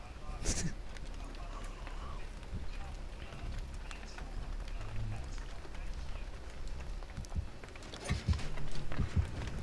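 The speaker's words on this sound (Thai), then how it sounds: "เสียงเท้าเรา" Footsteps of a player character in the Dead by Daylight video game run as a quick, irregular patter of soft steps under in-game ambience, with sharper bursts near the start and end and a voice talking over them.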